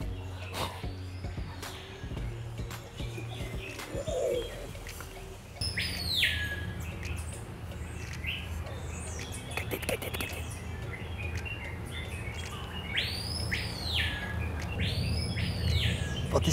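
Several jungle birds call over a steady background hum, with sharp rising whistles and chirps repeating near the end, some close and loud, others faint.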